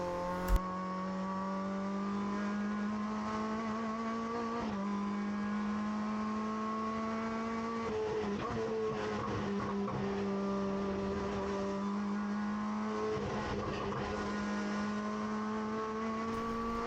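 A race car on a fast out lap, its engine a loud, steady near tone through the run, dipping briefly at shifts or braking, with no talk over it.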